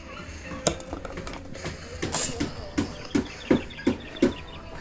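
Chickens at a farm house build site, giving a run of close, rhythmic clucks about every half second over an outdoor background, with a few sharper chirps mixed in.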